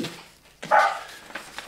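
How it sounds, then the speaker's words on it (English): A dog barks and yelps a few times at moderate distance, short sharp bursts picked up through an online call's microphone. "the dogs are also barking"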